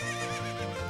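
A horse in the video game Ocarina of Time gives one brief, close neigh with a wavering whinny.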